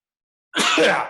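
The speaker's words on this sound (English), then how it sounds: "I can't get rid of these sneezes" A single sharp sneeze bursts in after half a second of silence, loud and close, trailing off slightly at the end.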